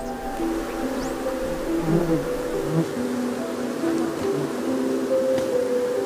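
Honeybees held in a cupped hand give off a steady, close, low drone that runs throughout, with faint background noise and no speech.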